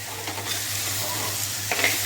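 Boiled chickpeas tipped into a hot spiced tempering with turmeric, asafoetida and chilli powder give off a steady loud sizzle with light stirring scrapes over it.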